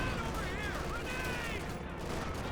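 Rifle grenades and gunfire in the Company of Heroes 2 video game form a dense, continuous wash of battle noise and distant shots under a voice commentating.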